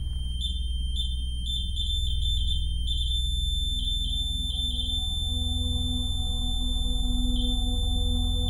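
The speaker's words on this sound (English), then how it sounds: "I can hear the REM pod going off in the basement." A REM pod paranormal detector sounding inside a house, repeated high electronic beeps in bursts over a constant low hum.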